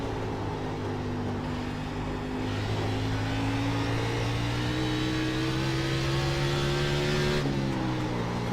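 Racing car engine in a racing video game, droning steadily and loud throughout, its pitch climbing gradually as the car accelerates, then a brief dip near the end as it shifts or lifts, with no voices.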